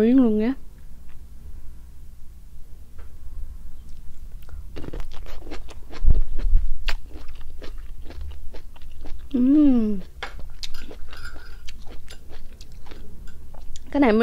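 Boiled bamboo shoots dipped in a culantro fish-sauce dip are chewed in soft, repeated crunchy bites close up, with short stretches of talk before and after the chewing.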